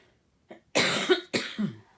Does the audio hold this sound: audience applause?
no